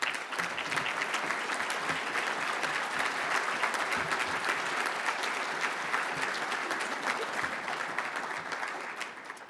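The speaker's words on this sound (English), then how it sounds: "please stand for a much-deserved round of applause" A conference crowd of disabled veterans and guests stands and applauds for nearly ten seconds, a thick continuous clapping that holds steady and then eases off slightly at the end.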